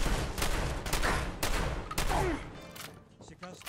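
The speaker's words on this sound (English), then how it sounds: "It's called shooting." Bursts of gunfire in Fallout 4, rapid overlapping shots crackling loudly for a couple of seconds and then tapering off into quieter scattered sound, with a voice talking over parts of it.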